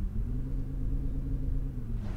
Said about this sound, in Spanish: Suena bien el coche